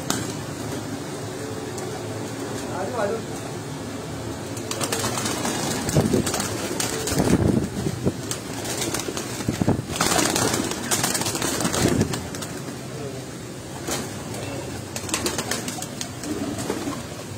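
Pigeons belonging to Ustad Mir Asghar coo in a loft, soft repeated cooing and wing rustles heard close over a constant hum of background noise.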